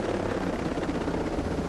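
A helicopter in the video game Ghost Recon Breakpoint, a steady rotor drone with a fluttering chop, fairly close and constant, with no talking.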